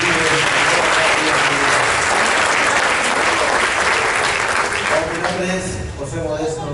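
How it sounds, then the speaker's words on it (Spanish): A church congregation applauds steadily and loudly for several seconds, a dense wash of clapping that thins toward the end, with voices mixed in beneath it. "Denle un aplauso al Señor"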